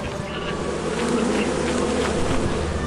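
Bees swarm in the video game Lethal Company, making a loud, dense, steady buzzing drone that fills the whole stretch with no voices over it.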